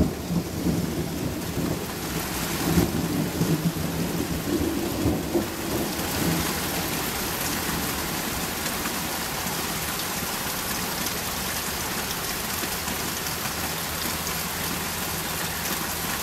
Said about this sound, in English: Crazy, insane rain. Here comes some more thunder.